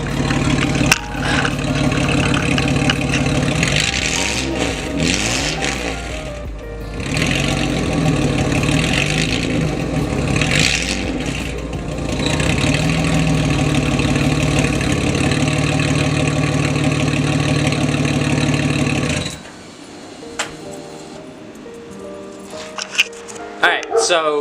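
A loud Z31 car engine with a straight-pipe exhaust idles and revs repeatedly with a raw, throaty note, rising and falling for about twenty seconds before cutting back to a quieter idle.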